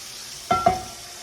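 London broil steak hitting a hot cast iron skillet gives two quick bursts of sizzle about a tenth of a second apart, then a soft steady frying hiss that lingers under a quiet room.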